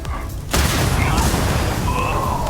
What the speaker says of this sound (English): I don't like shooting barrels when I'm testing a weapon, but I had to do it.